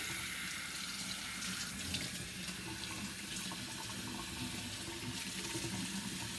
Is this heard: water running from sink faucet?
yes